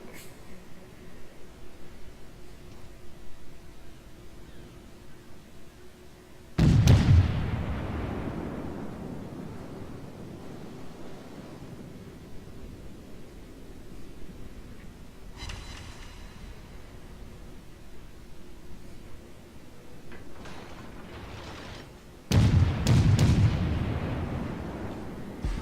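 Naval gunfire and shell explosions from the World of Warships video game: two loud, deep booming salvos with long decaying rumbles, roughly sixteen seconds apart, and a fainter blast between them over a low steady background.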